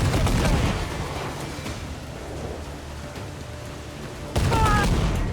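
Naval cannon fire in Assassin's Creed IV Black Flag, a steady roar of dense booms and crackle through most of the stretch, easing off before a loud burst returns near the end, with a shouted voice in the mix.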